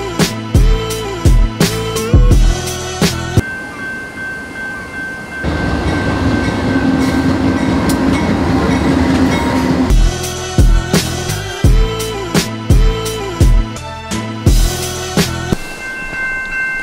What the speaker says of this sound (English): set it down right in front of these railroad tracks and got that train go by